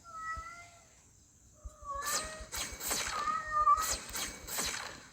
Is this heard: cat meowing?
yes